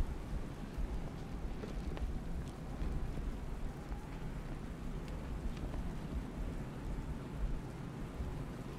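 Steady rain falling in the video game Batman: Arkham Knight, a soft continuous hiss with low rumbling beneath it and faint scattered drips, no voices.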